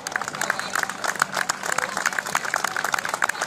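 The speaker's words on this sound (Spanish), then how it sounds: "un fuerte aplauso para el equipo de fútbol femenino, para la entrenadora y para Rocío Peláez" An audience gives a steady round of applause for a women's football team and their coach at a 2015 Miss and Mister pageant presentation in La Higuera, the scattered claps carrying on evenly under light crowd noise.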